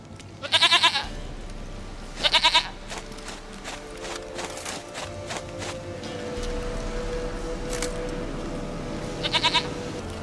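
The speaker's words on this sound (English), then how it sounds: "Goat of mine! Dearest, sweetest goat!" A goat in the video game The Witcher 3 bleats three times, each a short quavering burst spaced a couple of seconds apart, close and loud over a soft ambient background.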